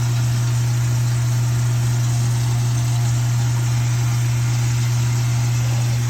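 A newly installed under-sink garbage disposal runs with a constant, loud motor hum and a strong low drone, steady and unbroken throughout with no speech.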